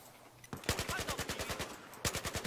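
Rapid automatic gunfire in the shooter game Battlefield 4, loud and close: a sustained burst of evenly spaced shots, a short pause, then another burst, with no talk.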